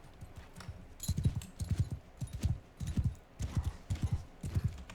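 Horse hooves drumming in quick bursts of galloping beats in the medieval combat game Bannerlord, moderately loud and close, with short gaps between the clusters of strides.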